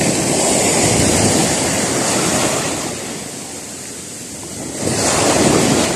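Ocean surf rushes and crashes continuously, easing briefly before another wave surges in, with heavy wind buffeting the microphone.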